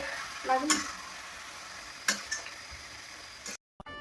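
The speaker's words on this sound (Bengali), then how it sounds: "এখন তাহলে কষানো আস্তে আস্তে করে কষানো।" Marinated chicken sizzles in oil in a pan for chicken pulao and is stirred slowly, a constant frying hiss broken by a few scraping clinks of the utensil against the pan, close and without talk, then a brief cut near the end.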